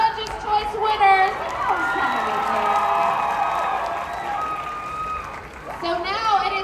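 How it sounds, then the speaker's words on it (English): Anime convention audience claps and cheers for award winners, continuous crowd noise with shouting voices and an amplified announcer speaking over the applause, swelling again near the end. "And one more round of applause for our lovely Judges' Choice winners."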